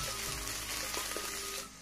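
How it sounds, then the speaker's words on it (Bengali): Garlic and ginger paste with spices sautéing in a pan, a steady close sizzle with a few scraping stirs, no voices. "ভালো করে নেড়ে চেড়ে কষে নেব।"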